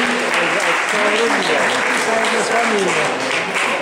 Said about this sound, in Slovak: Veľký potlesk, 3. miesto na 3000 metrov, kategórie ženy.